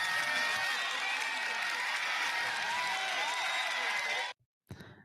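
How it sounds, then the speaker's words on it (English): Studio audience applause on a sports talk show, steady dense clapping with some cheering that cuts off abruptly near the end, followed by a brief faint sound. "round of applause for that."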